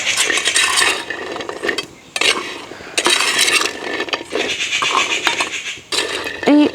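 Cashew nuts are stirred while roasting in an old broken clay pot, giving loud, close scraping and rattling in repeated bursts with short pauses between strokes.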